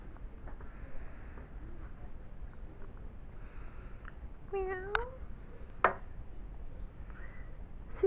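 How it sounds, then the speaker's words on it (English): A cat indoors in a bedroom gives a short meow, followed by a sharp sound and faint rustling in a quiet room. "You're a good kitty."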